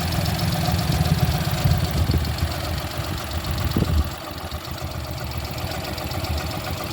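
A 2010 Maruti Suzuki Alto LXi engine runs at idle, a close, steady low rumble with a slight knocking rhythm, dipping briefly before settling back to an even drone.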